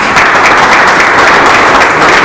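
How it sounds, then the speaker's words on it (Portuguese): Loud, dense applause from an audience at a caricature biennial, a continuous roar of many hands clapping close by with no pauses over two seconds. "Mais uma vez, uma salva de palmas."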